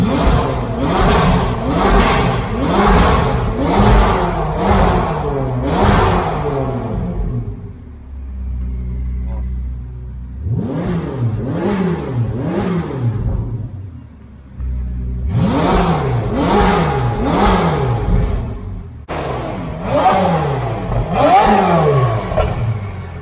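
A Ferrari 488 GTB supercar fitted with an FI exhaust revs hard in repeated rising and falling bursts, close and loud, with a brief idle lull between rev sequences.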